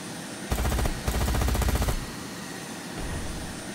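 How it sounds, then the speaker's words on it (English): Rapid bursts of automatic gunfire in the vehicle combat game Carrier Command 2, two loud rattling volleys in quick succession, followed by a lower rumbling engine drone. "I heard an explosion"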